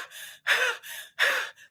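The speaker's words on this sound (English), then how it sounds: "open your mouth wide and begin to breathe in and out through the mouth" A person breathes forcefully in and out through a wide-open mouth in a yoga class, four audible breaths in a steady rhythm, the louder sharp inhales alternating with softer exhales, close and clear with no talking.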